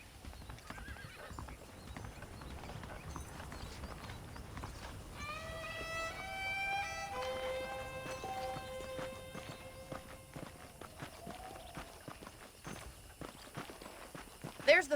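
Horse hooves clip-clop steadily through a Red Dead Redemption ranch scene, paired with a horse's whinny and soft tonal music in the middle, while someone talks over it.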